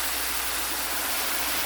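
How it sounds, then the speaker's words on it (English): Hot water poured from an electric kettle into a cooking pan holding carrots and broccoli, a steady broadband rush of flowing water that stays even and close throughout, with no talk. "We will just add water. That's hot water."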